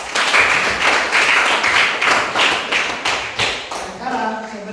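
Students in a classroom clap their hands together in a loud, rhythmic group burst, a series of sharp, roughly regular claps that fade toward the end as a voice begins.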